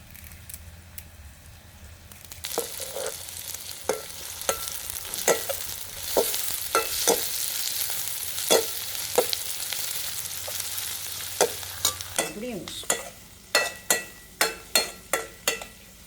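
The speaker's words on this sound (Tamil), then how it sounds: "இதோட நான் எடுத்து வச்சிருக்கிற கருவேப்பிலையை சேர்க்கிறேன்." Curry leaves hit hot oil in a frying pan with a sudden loud hiss and sizzle, accompanied by repeated scraping stirs of a spatula, ending in a run of rhythmic taps against the pan.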